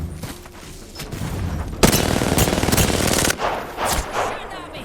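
Rapid automatic gunfire in the shooter game Apex Legends, loud bursts of close weapon fire with short pauses between volleys.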